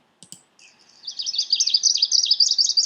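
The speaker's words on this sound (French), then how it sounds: "vous pouvez écouter les chants d'oiseaux les uns après les autres" A few clicks, then a recorded greenish warbler sings a rapid, high warbling trill that grows louder and continues, clear against silence.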